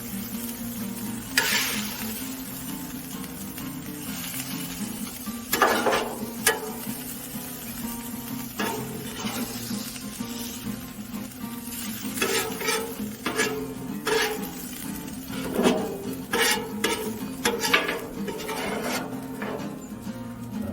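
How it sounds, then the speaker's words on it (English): Steak, green chile and onion cooking on a Blackstone griddle for a cheesesteak pizza, giving a low continuous sizzle broken by rough scraping and rubbing strokes of a spatula on the flat top, heard close up with no voices. "Now I'm going to get our steak and green chili and onion on there."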